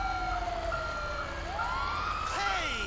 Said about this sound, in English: I need to change that siren.